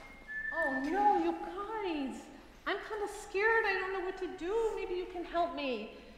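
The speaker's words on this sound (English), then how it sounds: "She's whistling for me." A woman whistles to call someone, several rising and falling two-note tones close by, over about six seconds with a short pause partway through.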